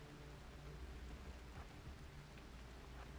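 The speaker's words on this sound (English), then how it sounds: "They want to stay out in the rain where it's hard to shoot." Steady rain falls over an ice sheet colony in the RimWorld video game, a faint, even hiss that continues unbroken and without thunder.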